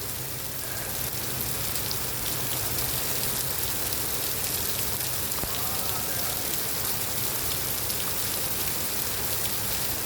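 Steady rain pours down in Sharjah, United Arab Emirates, a continuous hiss of drops striking surfaces that holds at an even level throughout with no voices.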